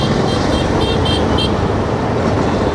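On a village road, a vehicle horn gives a quick run of about four short, loud honks over a constant rumble of engine and road noise, then the noise continues without honking; no talk.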